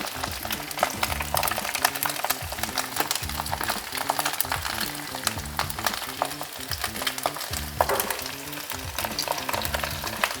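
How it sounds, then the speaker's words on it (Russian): Fish cutlets for Odessa-style stuffed fish fry in a pan, a steady, close sizzle and crackle of hot oil with occasional louder spatters, continuous throughout and without talk. "все котлеты нужно обжарить"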